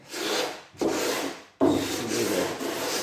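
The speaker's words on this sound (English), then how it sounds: "lighter grade emery, usually about 180, 150. Should be plenty enough on timber to re-sand the lacquer." Emery paper of about 150 to 180 grit rubs old lacquer off Huon pine timber on a sail boat, making three close, steady rasping strokes separated by brief pauses.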